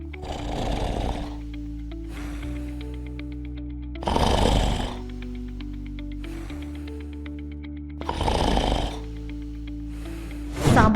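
A person snores loudly and close by in three long, regular rasping breaths spaced about four seconds apart, with a low steady hum underneath and no talk.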